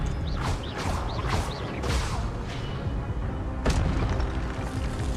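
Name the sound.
Expelliarmus spell cast in video game Hogwarts Legacy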